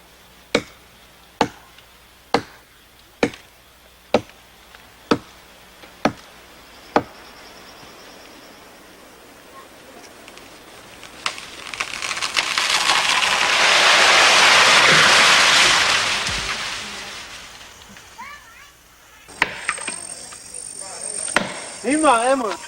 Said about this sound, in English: To Kempeti, it is just awengi, awengi, awengi, chopping, chopping, chopping.